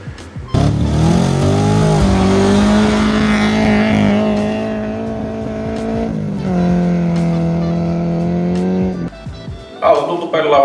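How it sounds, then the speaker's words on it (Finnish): Toyota Corolla rally car built for jokkis (Finnish folk racing) accelerating hard, its engine note loud and close, climbing through the revs in long sustained pulls, then dropping off and rising again before it backs off near the end. "Testataan miltä se tuntuu vauhdissa se auto."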